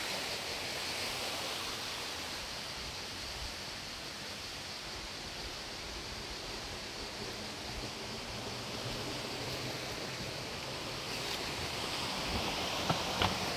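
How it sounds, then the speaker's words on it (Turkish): Continuous rushing water roars evenly throughout, a dense steady hiss like a waterfall close by at Emendere, with no voices. "Burada bir tane daha şelale var."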